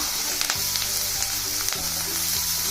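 Finely sliced large onion and curry leaves frying in a pan for wheat rava upma, a loud continuous sizzle with a few stirring scrapes, no talk.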